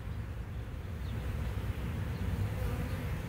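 A dense, steady buzzing of many bees, continuous and fairly loud throughout, with no voices.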